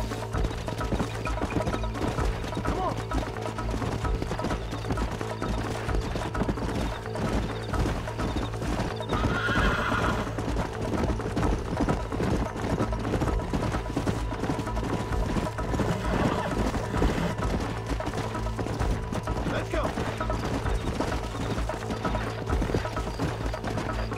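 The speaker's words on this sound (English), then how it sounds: "Come on, horsey." Hoofbeats of a horse clip-clopping at a steady run in the Western video game Red Dead Redemption, with whinnies and neighs over a dense, continuous game soundtrack and ambience.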